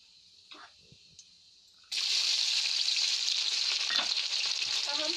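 Onions hitting hot oil with cumin and asafoetida, quiet at first, then a sudden loud sustained sizzle of frying that continues to the end.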